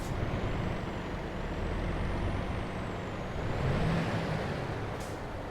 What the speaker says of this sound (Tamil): வண்டி ஸ்டார்ட் பண்ணலாம்.